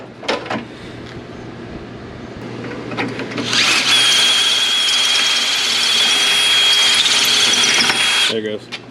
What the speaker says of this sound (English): So I'll go ahead and drill that one out and we'll keep on going.